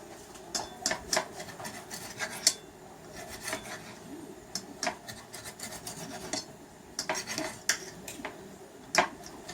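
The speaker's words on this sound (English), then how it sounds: "And this is how I cut my steak." Knife and fork scraping and clinking against a pan while steak is cut into pieces for green chile stew, a steady run of close, light metallic scrapes and taps with no talking.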